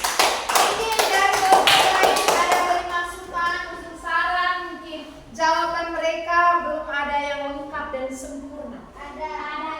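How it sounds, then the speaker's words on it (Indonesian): A group claps hands in applause in a classroom setting, a dense burst of clapping at the start that quickly fades, followed by children's voices talking. "kita tepuk tangan untuk kelompok"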